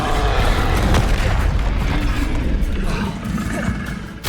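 A Confringo spell explodes in Hogwarts Legacy, a loud, close booming blast followed by rumbling, clattering debris and a sustained roar that fades toward the end.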